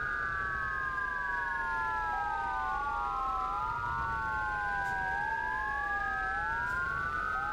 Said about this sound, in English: sirens are real, man